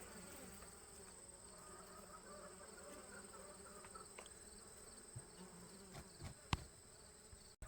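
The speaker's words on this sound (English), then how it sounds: "it is alive with my girls, my bees over here" Bees buzz softly and continuously around flowers outdoors, a faint steady hum with a few brief louder passes and taps near the end.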